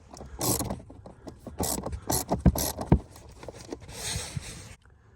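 A socket ratchet clicks in short, irregular bursts while backing out 5.5mm bolts under the dash of a Chevy Trailblazer, with close, quiet mechanical rattles and small knocks between strokes.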